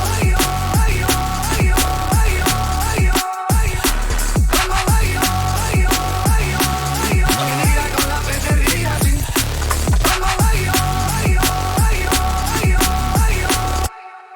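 Neurofunk drum and bass built in FL Studio, with dense, loud, punchy drum hits and heavy bass driving continuously, a chopped vocal sample cutting in over the drop, and a brief gap near the start.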